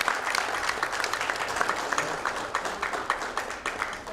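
Audience applause at a hospital's launch event, a steady wash of many hands clapping at once, fairly faint and distant, with individual claps popping out of the dense crackle throughout.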